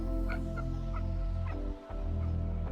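Domestic ducks at an animal sanctuary quack and cluck in a steady scatter of calls over a constant low background hum, fairly close, with no talking.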